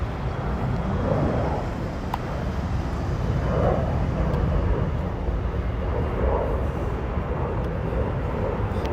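A loud aircraft flies over San Diego, heard as a continuous, broad engine roar that stays fairly even over about nine seconds. Street and traffic noise blends in underneath, and no one speaks.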